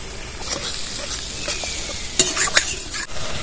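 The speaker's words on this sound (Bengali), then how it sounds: "মশলাটা ভালোভাবে কষিয়ে নিয়েছি" Bengali-style spice paste sizzling and being stirred in a pan, a steady fry with a few sharper scrapes and clinks of the spoon against the pan near the end; no talking.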